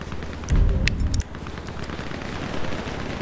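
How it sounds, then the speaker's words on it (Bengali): A short burst of loud, rapid gunfire in Grand Theft Auto V, with booming low end, followed by a steady background hum and faint crackle. "এরা তো বৃষ্টির মতো গুলি করতেছে ভাই"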